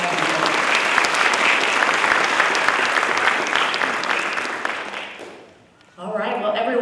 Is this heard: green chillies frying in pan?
no